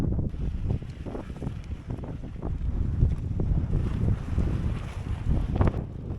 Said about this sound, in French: On se bat contre le vent là, quel enfer, quel enfer.